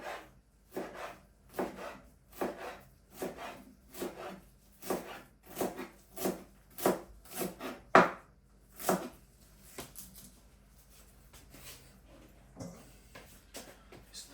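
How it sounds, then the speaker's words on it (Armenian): Dill sprigs finely chopped with a knife on a board in a home kitchen, a steady series of crisp repeated cuts in bursts, close and clear, trailing off into quieter scraping near the end. "հիմա մեզ հարկավոր է, որ կանաչի կտրատենք"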